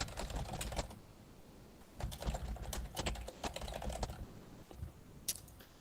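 Keys clatter on a computer keyboard as email addresses are entered, quick bursts of typing separated by short pauses, close and moderately quiet, no talking.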